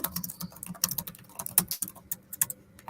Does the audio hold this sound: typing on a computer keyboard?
yes